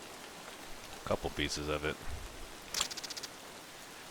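Steady rain falls across a wooded area in the video game Escape From Tarkov, a constant hiss of drops under a man's brief speech, followed by a short rapid run of clicking sounds.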